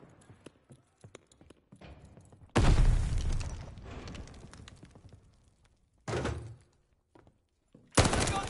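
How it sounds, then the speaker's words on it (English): A grenade explodes in the Call of Duty Vanguard beta, a sudden loud blast with a long rumbling tail, followed by further sharp bursts of gunfire amid quieter clicks and scuffles. "Throwing grenade!"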